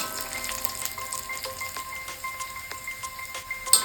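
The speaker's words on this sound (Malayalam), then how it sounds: "സവാള നിറം മാറുന്നവരെ ഇങ്ങനെ ഇളക്കി മറിച്ചുകൊണ്ടേയിരിക്കും" Sliced onions being stirred and fried in a pan for a dried prawn curry: a soft, even sizzling hiss continues close by, dotted with faint ticks of the spoon against the pan.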